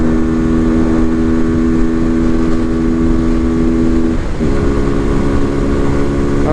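A Morbidelli F125 motorcycle engine revs hard and continuously while accelerating through the gears, loud and close, with one brief dip in pitch around a gear change before it keeps pulling.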